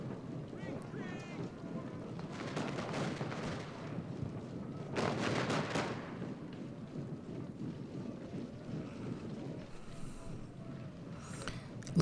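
Cannon fire and battle din in the Civil War strategy game Ultimate General: Gettysburg, a steady rumbling roar with a louder burst of booms near the middle, continuing under the mix for the whole stretch.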